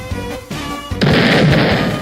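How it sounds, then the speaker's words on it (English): Explosions from the video game Deltarune boom in quick succession, with a sharp burst about halfway through followed by a louder crashing blast. "Except for the explosions. Those are always funny."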